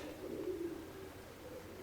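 Pigeons coo softly and fairly close in a quiet loft, a low burbling call swelling in the middle before fading, with nothing else around.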